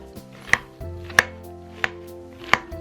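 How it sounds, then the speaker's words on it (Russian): Boiled potatoes mashed in a pot with a potato masher for pirozhki filling: four evenly spaced, firm thuds, each pressing down with a soft squelch, close and loud, with no talking. "И теперь вот такой толкушкой мне необходимо превратить картофель в пюре."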